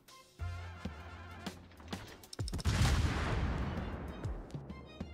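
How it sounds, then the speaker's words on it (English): Battleship Colorado's heavy guns firing in World of Warships: several deep booming blasts in succession, with a loud, sustained roaring volley near the middle, alone without talk. "that's Colorado shooting me"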